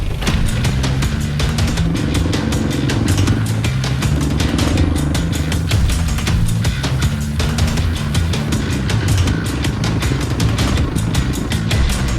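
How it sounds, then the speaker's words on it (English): A motorbike carries a rider through traffic in Vietnam, its engine loud and close throughout with a steady drone, shifting pitch as it accelerates and eases off amid road rattle. "as you saw, I took my first motorbike ride."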